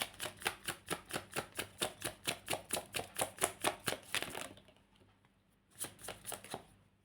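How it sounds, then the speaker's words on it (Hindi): Tarot cards are shuffled close to the microphone in a fast, even run of crisp riffling snaps for about four seconds. A quiet pause follows, then a shorter burst of shuffling. "My last shuffle."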